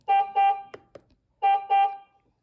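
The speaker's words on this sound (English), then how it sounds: "you can see how you can honk with that too" Two pairs of short, bright electronic horn beeps from a small FanttikRide N7 electric wiggle car, separated by a few clicks and button taps, close up.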